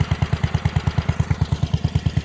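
A small Allis-Chalmers B212 tractor engine idles steadily after new points, with a fast, even chugging pulse, close by and fairly loud, with no voices.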